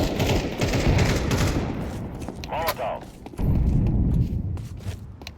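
AK rifle gunfire in a cowboy-themed multiplayer shooter game, loud dense bursts of shots filling most of the clip with a brief lull midway, mixed with game effects.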